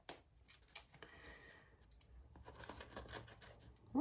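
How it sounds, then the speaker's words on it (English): Dull scissors snip through the ear loops of a face mask, giving a few quiet, close cuts and rustles with a slightly louder snip at the end. "I'm going to take my scissors and I'm going to snip the ear loops off of both sides at the bottom of this mask."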